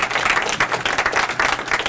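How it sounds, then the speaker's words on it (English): Applause for a state senator at a civic engagement dinner, a dense, steady burst of many hands clapping together that stays loud and close from start to finish. "give him a round of applause"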